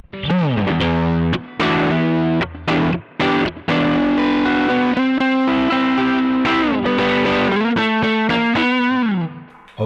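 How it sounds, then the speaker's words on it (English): Electric guitar driven through a Koch 63'OD all-tube, Dumble-style overdrive pedal into an amp's front end, crunchy sustained chords and bending lead notes played loud with brief pauses between phrases. "turn on the overdrive"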